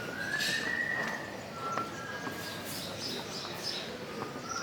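A man whistles a tune inside a building in Rome, clear sustained and sliding notes carrying a melody over a busy, echoing background of indoor crowd noise.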